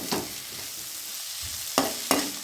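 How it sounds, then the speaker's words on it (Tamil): Mussel masala roasts in a pan with a steady sizzling hiss, broken by several quick scraping stirs of a spoon, the last three close together near the end. "இந்த மசால்ஸை இதில் போட்டு ரோஸ்ட் பண்ணிடலாம்"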